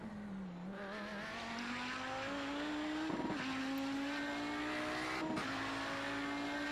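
An Audi 90 GTO race car lapping the Long Beach street circuit, its engine holding a steady droning note that climbs gradually, broken by two quick shifts, heard from onboard and continuous throughout.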